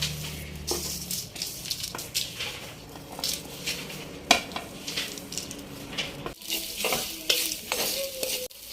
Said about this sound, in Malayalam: ബാക്കി സാധനങ്ങളും കൂടി ചേർത്ത് വറുത്തെടുക്കാം.